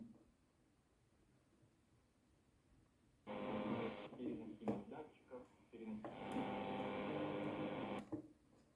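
Faint hiss gives way to a Grundig Satellit 300 radio tuned onto a medium wave station, with a murky, bandlimited voice or music swelling in and dropping out amid static.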